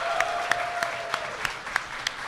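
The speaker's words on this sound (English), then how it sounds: "Give them a round of applause." Audience at a podcast event applauding, a light, steady patter of clapping with a few louder claps standing out and a brief tone fading under it.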